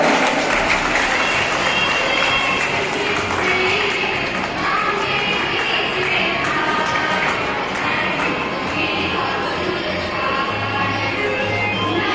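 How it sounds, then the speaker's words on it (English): Audience applause at a school leaders' investiture ceremony, a steady rush of clapping from a large hall crowd lasting around twelve seconds, with some faint low background tones beneath. "Give a huge round of applause for her."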